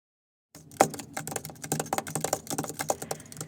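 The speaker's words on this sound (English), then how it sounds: "I'm typing in patient data into Epic." Patient data is typed on a computer keyboard into Epic records software: a close, quick, uneven patter of key clicks starts after a short silence and runs steadily to the end.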